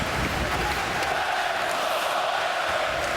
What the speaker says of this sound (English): Let's go Oilers chant up from the crowd.